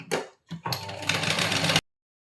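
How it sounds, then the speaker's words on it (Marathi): A sewing machine stitching along the edge of a folded bias-cut piping strip for a blouse, a short clatter then a quick close burst of stitching that stops abruptly into silence. "एकदम कडेने शिलाई मारायची आहे"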